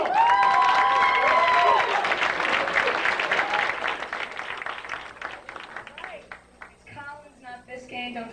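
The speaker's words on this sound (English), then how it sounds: "Let's give a nice round of applause for Cha-Cha" A comedy club crowd at the Improv in Miami breaks into loud applause and cheering, holding strong before tapering off as a comedian starts talking.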